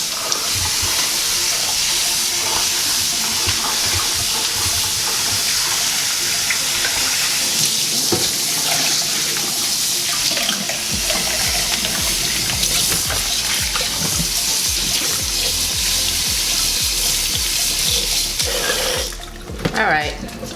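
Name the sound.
tap water washing basmati rice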